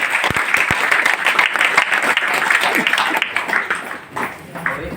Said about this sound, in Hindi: और एक ताली आप सभी लोग अपने लिए बजाइए